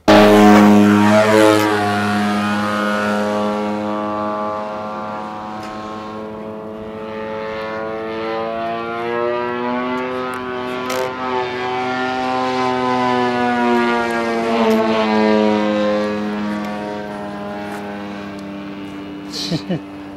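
An AJ Laser radio-controlled model airplane drones overhead, its propeller and engine tone sliding slowly up and down in pitch as it passes, loud and continuous for about twenty seconds.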